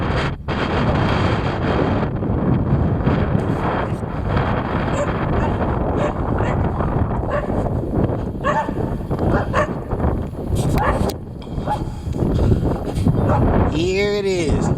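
Heavy wind buffeting a microphone, a dense, roaring rumble that stays loud and constant, with a brief whistling tone near the end.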